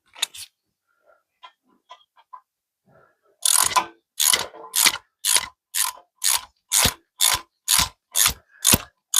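Ratchet wrench tightening bolts during front wheel bearing work on a 2011 Honda Civic: a few faint clicks, then a close run of about a dozen evenly spaced loud ratcheting strokes.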